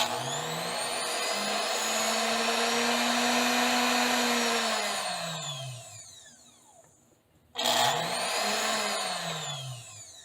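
A Singer Making the Cut serger motor runs from the foot pedal, a loud steady whine that winds down, briefly stops, then surges back up; the machine has power but something is not working right.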